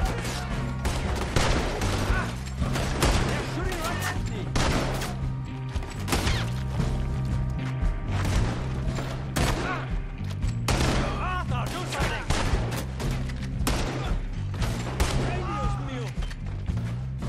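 A fusillade of gunfire in Red Dead Redemption 2: rapid, loud, overlapping shots crack continuously throughout, with voices talking over the shooting.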